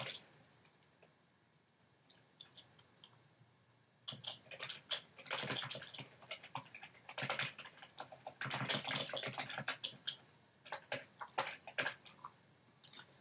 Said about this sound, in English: now I have the opportunity to type in just a short description about what these files include